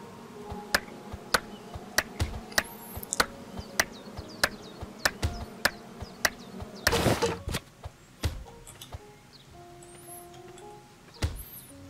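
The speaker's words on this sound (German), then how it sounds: "Ja, das ist von den Bienen" Bees buzz faintly in the survival game Spirit of the Island, a thin drone under a string of sharp clicks and taps, with one louder rustling burst midway. The whole scene is quiet, with no talking.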